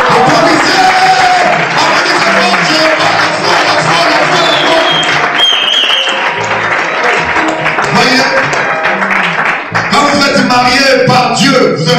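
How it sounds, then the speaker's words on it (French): A church congregation bursts into loud, sustained applause that fills the room for the whole stretch, dense clapping mixed with cheers and shouts, with voices calling out over it. "Applaudissez!"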